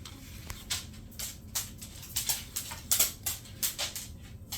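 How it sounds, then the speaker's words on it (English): A dog's nails click on a hard floor in the background of a home kitchen, a string of light, sharp taps in a loose irregular rhythm, fairly close but faint, with no talking over them. "You can hear my dog lurking around in the background."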